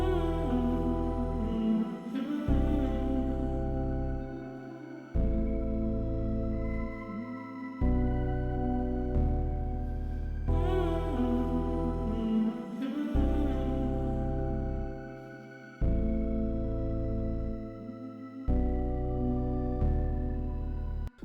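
Hip-hop beat with a Grease-like feel, built from four layered parts: heavy booming bass and drum hits under a looping melodic figure, repeating in a steady, loud cycle with no voices.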